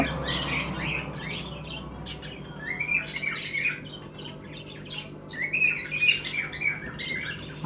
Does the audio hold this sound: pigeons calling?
yes